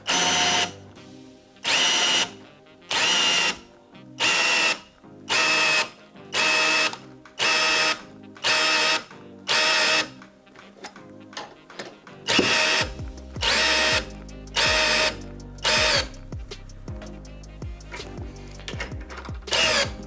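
A Milwaukee M18 FPD2-502X cordless drill-driver bores with a spade bit in a rapid series of loud, regular bursts that cut off abruptly as the overload protection trips, then restart, about fifteen pulses over twenty seconds.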